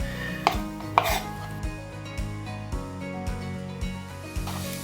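Small cucumbers being chopped with a knife for a potato salad, giving a steady run of close, sharp knife taps on a board at a brisk, even rhythm, with no talk.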